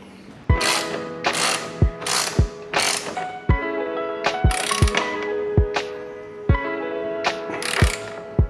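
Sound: ratchet tightening a bolt on a motorcycle

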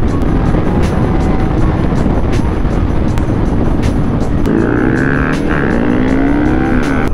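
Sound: group of motorcycles riding

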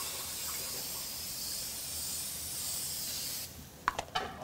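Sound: nonstick cooking spray sprayed onto a hot grill

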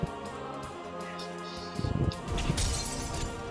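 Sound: glass shattering from fire attack in Castle Crashers video game

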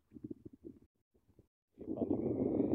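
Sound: wind blowing by the river

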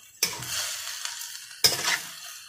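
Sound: stir-frying pork and fresh chili in a pan

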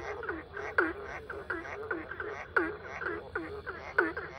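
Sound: frogs croaking

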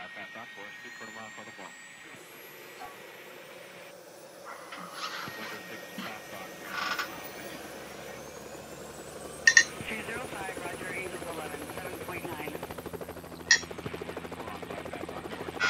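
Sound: helicopter flying in a video game helicopter rescue

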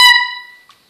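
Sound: clarinet played badly, too much air and lips wrong

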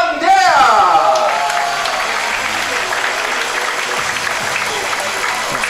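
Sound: audience cheering and applauding a shooter

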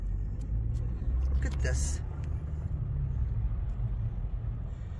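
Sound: car driving slowly through flood water on Route 66

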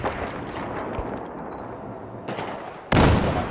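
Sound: gunfire rounds hitting a pillar in video game Battlefield 4

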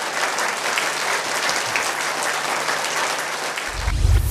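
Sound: audience applause

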